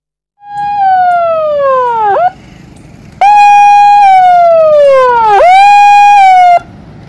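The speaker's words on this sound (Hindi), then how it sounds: "सायरन बज रहा है।" A loud electronic warning siren warns of flooding by a riverbank near dam gates in Jamshedpur, Jharkhand, during heavy rain. It gives two long falling wails, each ending in a quick upward sweep, with a brief gap between them.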